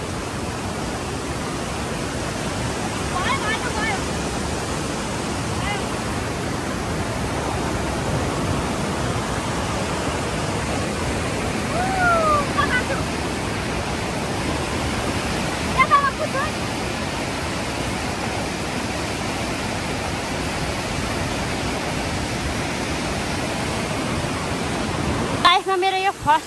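Water rushes steadily across a steep jungle mountain trail in remote Nepal near the Chinese border, a continuous broad roar like a stream or small waterfall, with faint voices underneath.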